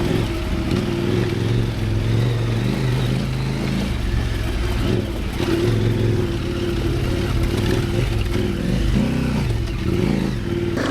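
Steady mid-pitched thrum of a new 2025 Suzuki DR650 single-cylinder motorcycle engine while riding, with slight shifts in revs and wind rush, loud and continuous throughout with no talking.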